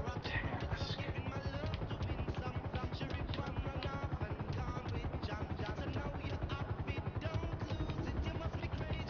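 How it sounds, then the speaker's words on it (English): A helicopter in GTA Online flies with a dense, continuous rotor thrum and engine roar, loud and unbroken throughout with no speech. "I have a feeling landing the helicopter is going to be a difficult task."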